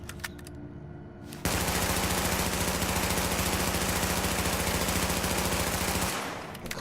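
A submachine gun in the video game Tom Clancy's The Division fires one long, rapid, unbroken burst of several seconds, loud and close, with quieter game sounds before and after.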